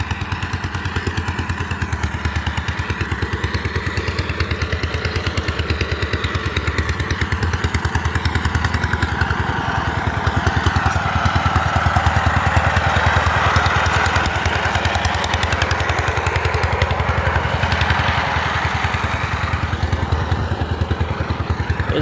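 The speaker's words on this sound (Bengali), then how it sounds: "এখানে এক ভাই পাওয়ার টিলার দিয়ে জমি চাষ করতেছে" A power tiller's engine chugs steadily while ploughing a village field on a sunny winter afternoon, a loud continuous putter with rhythmic clatter running unbroken throughout.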